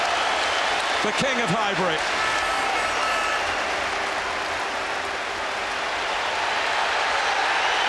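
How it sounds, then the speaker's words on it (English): A stadium crowd at Highbury, on the last match day at the Arsenal ground in 2006, applauds Dennis Bergkamp with a sustained, dense roar of clapping, while a commentator speaks over it. "the applause for Dennis Bergkamp has got even more intense"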